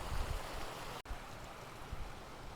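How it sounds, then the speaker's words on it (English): Water flowing quickly down a stream, a steady broadband rush, fairly faint, broken by one brief dropout near the middle. "the water is flowing a lot faster than before, and that goes all the way down to the bottom"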